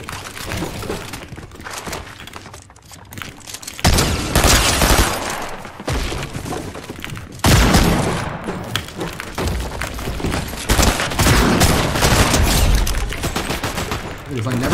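Burst gunfire in a video game, dense loud volleys of rapid shots and impacts rattling almost nonstop, close and heavy, with talk briefly under the noise.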